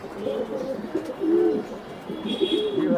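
Pigeons cooing in a Mirpur 13 farm loft, several birds with overlapping low rolling coos and a few faint chirps, fairly close and steady throughout.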